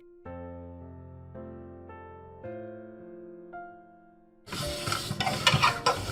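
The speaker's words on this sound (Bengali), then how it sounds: "তো তাই জন্য আমি তারটা দিয়ে ভালো করে ঘষে নিচ্ছি" A sustained tonal melody gives way to harsh, rasping strokes as a wire scrubber grinds against a pot stained brown from boiling chickpeas, scraping loudly and irregularly up close.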